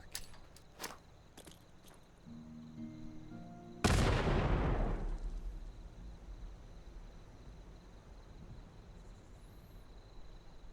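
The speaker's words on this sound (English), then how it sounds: "I just noticed I threw a grenade when I did that" A single grenade explosion in the video game Fallout 76, a sudden loud burst that rumbles and fades over a couple of seconds, preceded by faint clicks and tones and followed by quiet ambience.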